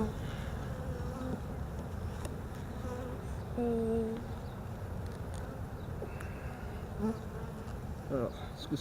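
A honeybee colony hums in an opened hive during a spring inspection, a dense, constant buzz close by, with a few louder individual bees droning past.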